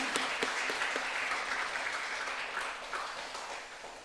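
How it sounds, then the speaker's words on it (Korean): Applause from a church congregation during a Sunday worship service, a steady dense wash of clapping that slowly fades toward the end, with no talking over it. "격려의 박수를 우리 하기 원합니다"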